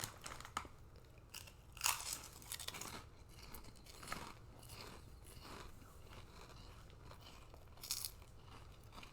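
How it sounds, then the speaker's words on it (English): Crunchy hot and spicy pig skin snacks are bitten and chewed right at the mic, a steady stream of close crackling crunches with a few louder snaps and no talk. "I'm so sorry if this bothers anybody of us chewing."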